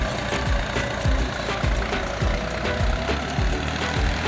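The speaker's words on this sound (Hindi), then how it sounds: "अभी ट्रैक्टर निकल गया है" Tractor engine chugging under load while pulling a trolley fully loaded with soil in a village, a low rhythmic knocking pulse repeating steadily about twice a second, fairly close, with no talking.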